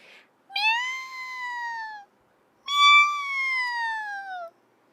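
Two drawn-out, high kitten cries from a cartoon, each lasting well over a second with a short silent gap between them and no other sound, heard clearly alone and not far off, with the animal clinging to a toy boat at sea.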